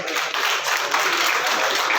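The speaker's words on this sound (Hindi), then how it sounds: "एक बार सभी के लिए ताली बजाएं।" Steady, dense applause from a large audience at the Jodhpur Youth Icon award ceremony in a hall, a continuous wash of many hands clapping at fairly even loudness with no talking.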